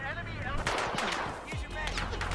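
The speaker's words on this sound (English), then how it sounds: "Because it's a very powerful gun. It's one of the powerful pistols out there." A powerful pistol fires in Battlefield 4 hardcore multiplayer on the Silk Road map, sharp close shots cracking over game noise while a voice talks along.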